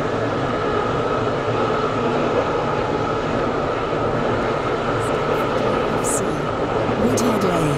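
Interior rumble of a Class 720 train in the Roblox game Stepford County Railway, a loud, steady rolling drone with faint high squeals and clicks late on, running under continuous voices.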